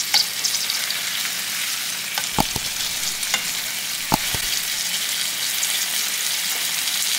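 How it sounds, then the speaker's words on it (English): Ribeye steaks frying in a skillet give a steady, close sizzle throughout, with a few sharp clicks and knocks of handling breaking in partway. "we only need to fry these in the skillet"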